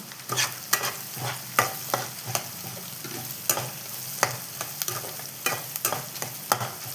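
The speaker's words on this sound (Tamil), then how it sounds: "வெங்காயம் நல்லா வதக்கட்டுமா. இதில் கொஞ்சம் கருவேப்பிலை, மூணு காஞ்ச மிளகாம்மா" Onions sautéing in a pan with curry leaves and dried red chillies, a steady sizzle broken by frequent sharp scrapes and clacks of a spoon stirring, close and fairly loud, no voices.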